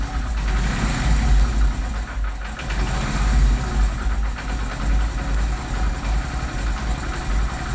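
A Honda CD 70 motorcycle engine idling just after starting, a steady, loud, close low putter with slight unevenness throughout and no talking.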